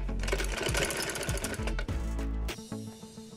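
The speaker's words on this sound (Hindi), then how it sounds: "चले सिलाई को लगाते हैं, यहाँ से इस तरह से इसको पक्का करेंगे थोड़ा सा" A sewing machine stitches a shalwar seam, running in fast, steady mechanical bursts up close, briefly slowing and then restarting at a lighter, quieter pace near the end.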